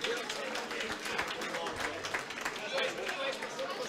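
An audience applauds Marino Amadori, Italian Under-23 national cycling team coach, at an event: dense, continuous clapping from a crowd with chatter and voices underneath, steady in level throughout.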